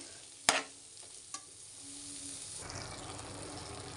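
Dill greens are tossed into a hot wok, bringing a sharp splash and crackle, then a brief clatter, followed by a steady close sizzle and hiss of frying that holds to the end.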